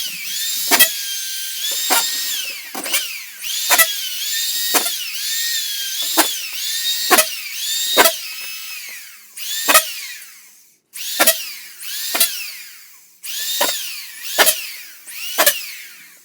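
A power drill drives screws through drywall into wall studs in a series of short, whining bursts, each rising in pitch and ending with a sharp stop, repeated about a dozen times at close range.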